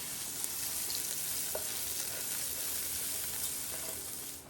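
Onions fry over fairly high heat in a pan, giving a steady, close sizzle with a few brief clicks and scrapes.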